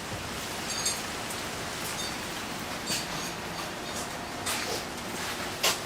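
Steady rain falls outside, a soft even hiss broken by a few sharper drip taps, with no talk.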